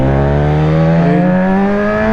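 A motorcycle with a full aftermarket exhaust revs loudly and steadily close by, its engine note climbing as the quick shifter works through the gears.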